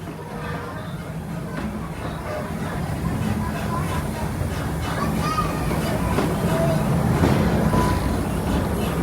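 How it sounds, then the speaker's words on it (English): Aboard the propane-fired steam locomotive of the Tommy G. Robertson Railroad at Six Flags St. Louis, a steady low rumble of rolling cars builds gradually, with faint squeals and clanks above it and voices murmuring underneath. "The Tommy G is a real-looking steam locomotive, water heated in the boiler, turns to steam, which drives the pistons that power our train."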